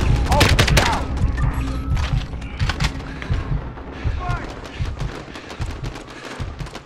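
Rapid bursts of gunfire from Call of Duty: Modern Warfare, set at Piccadilly Circus, crackle loudly and then continue more sparsely. Shouted radio-style voices and talk run over the shots throughout.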